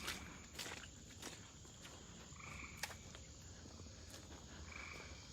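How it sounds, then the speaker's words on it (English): Tree frogs croak on the wet Meramec River floodplain in a dense, continuous chorus of raspy calls, heard at some distance while close footsteps squish through soggy ground and insects buzz faintly beneath. "We are currently walking towards those tree frogs."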